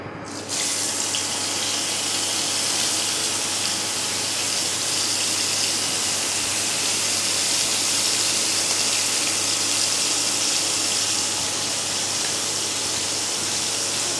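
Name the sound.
spiced ingredients added to hot oil, frying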